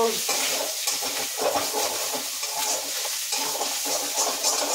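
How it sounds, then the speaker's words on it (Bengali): Fish heads fry in a pan with a continuous crackling sizzle, broken by repeated scraping stirs of a utensil against the pan at close range; no talking. "এবারে আমার মাছের মাথাগুলো ভাজা হয়ে গেছে"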